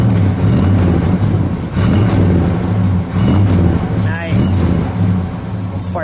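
A 1970 Chevrolet Monte Carlo SS 454 with dual exhaust is revved several times in close succession, each loud surge rising and falling over a rumbling idle, with a short voice breaking in near the end.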